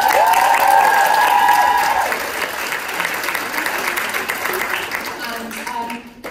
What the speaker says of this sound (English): So let's have a round of applause for Vicky.